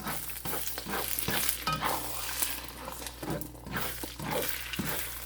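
Egg and vegetable fried rice is stirred in a pan, with a steady sizzle of frying under repeated scraping and clinking strokes of a utensil, close and continuous.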